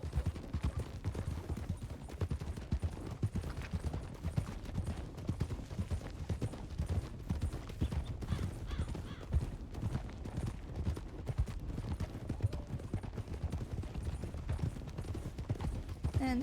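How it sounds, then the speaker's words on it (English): Horse hooves at a canter in the Red Dead Redemption 2 roleplay game, a steady, fast rolling clatter of hoofbeats running the whole length, close and even. "Picking up to a canter."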